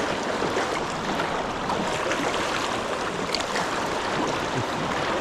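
Fast, high steelhead river water rushes in a steady, dense broadband roar, close and continuous, with no voices over it.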